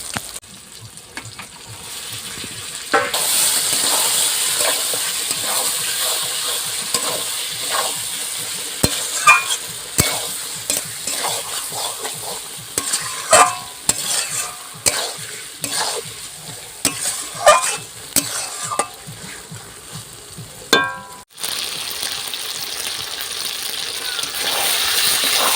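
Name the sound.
chicken frying in spiced oil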